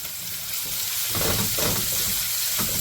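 One and a half cups of carrots tipped into a very hot pan for chilli chicken fried rice, a bright continuous sizzle that swells as they land, with bursts of stirring and scraping, no talking.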